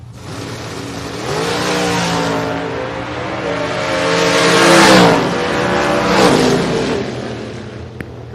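A Camaro drag car launches down the drag strip, its engine roaring loud and close as it climbs through the revs, then dips and surges again as it pulls away, with no talk over it.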